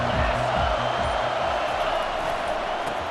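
A stadium crowd in the EA Sports College Football 25 video game roars in a steady, dense wall of cheering, loud and continuous, with no talk over it.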